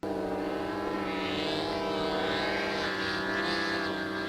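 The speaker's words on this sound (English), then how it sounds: "if that plane is making that much noise" A propeller plane drones loudly and steadily overhead in an outdoor setting near a flock of geese, its engine hum continuous throughout with a slight rise and fall in pitch.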